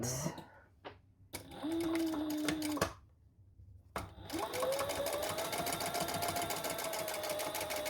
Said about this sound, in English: Let's sew it.